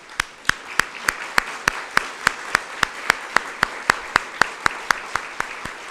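An audience applauds to welcome a delegation at a global health night event, heard as crisp claps in a strict, even rhythm, about three per second, close and distinct.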